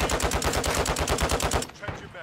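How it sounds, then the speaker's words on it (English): Light machine gun in Call of Duty Modern Warfare II firing a rapid sustained burst of evenly spaced shots, loud and close, then breaking off into quieter ambience. "Are you using an LMG?"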